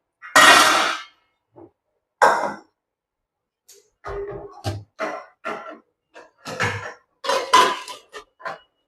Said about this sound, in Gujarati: અને હવે આપણે આને પ્રી હીટ કરેલા કુકરમાં રાખી દેવાની છે.